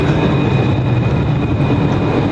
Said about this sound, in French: Voilà le tram de la ville.